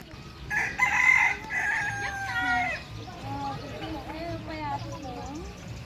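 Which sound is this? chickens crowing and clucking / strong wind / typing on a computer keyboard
chickens crowing and clucking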